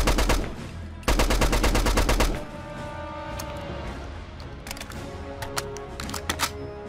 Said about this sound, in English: another assault rifle mod, the STG-44, an a bit more classic weapon